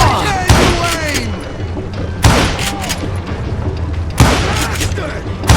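Gunfire in the Western shooter Call of Juarez Gunslinger: three loud, booming shots spaced about two seconds apart, each cracking sharply over a noisy game background while voices talk between them.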